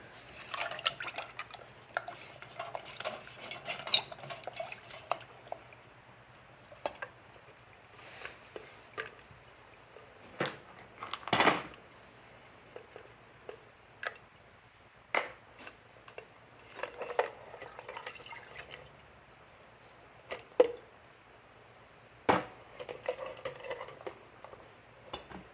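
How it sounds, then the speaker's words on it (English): Engine parts from a seized 1979 Vespa P200E being rinsed with water at a kitchen sink: irregular splashes, drips and clinks of metal parts, with sharper knocks now and then, close and moderately loud. "Right here at the kitchen sink, why not?"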